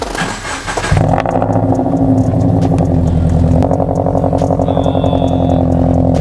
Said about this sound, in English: if you guys haven't heard what Brandon's car sounds like now, sounds exactly the same